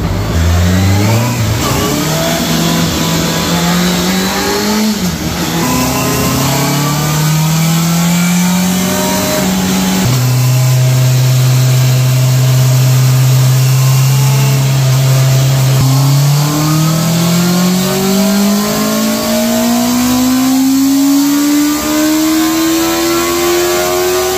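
A 2025 Honda CBR650R motorcycle is revved hard in 5th gear on a dyno. The loud, close engine scream climbs steadily in pitch, eases back, holds, then sweeps upward again over a sustained run.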